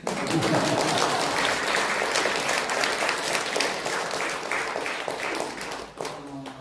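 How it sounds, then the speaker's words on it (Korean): Congregation at a Buddhist temple's new-moon dharma service breaks into sustained applause, a loud even patter of many hands that tapers slightly near the end. "큰 박수 한번"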